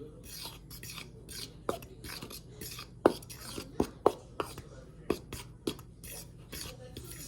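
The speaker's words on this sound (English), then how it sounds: "And with a fork, we mix." A fork mixes apple pie filling in a bowl, giving soft scraping and stirring with a handful of sharper clinks against the sides, irregular and close, over faint kitchen background noise.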